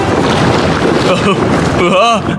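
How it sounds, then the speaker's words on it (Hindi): Water sloshing inside a large tube filled with water while it is shaken, giving a loud continuous rushing and gurgling churn, with brief voice-like sounds near the end. "ठीक है, अब ये पानी से भर गया है तो मैक इस ट्यूब को शेक करेगा।"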